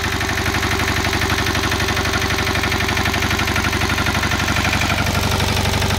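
A Lamborghini LDA 451 diesel engine on a BCS mower with electric start idles loudly and close, a steady rapid clatter with even rhythm throughout; no talking.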